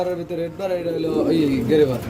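Pigeons coo at a pigeon market, their low, throaty calls close by and mixed with nearby talking voices.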